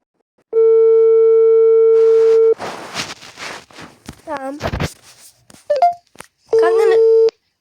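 Telephone tones sound after a call is hung up: a steady sustained beep at the start and again near the end, with people talking and shouting in between, loud and close.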